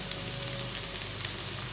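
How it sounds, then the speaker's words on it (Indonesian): Onions sautéing in a pan while cooking Padang-style gado-gado, a steady close sizzle and crackle throughout with faint stirring scrapes, no talking. "Dan kita akan tumis dulu ini bawangnya."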